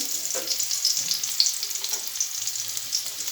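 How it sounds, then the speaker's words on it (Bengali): Chopped onion frying in a pan while pasta is being made, a steady bright sizzle with faint stirring scrapes, close and continuous with no talk. "পেঁয়াজ কুচিটা একটু ভাজি ভাজি করে তারপর পাস্তাটা ঢেলে দেব"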